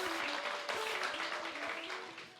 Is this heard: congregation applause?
yes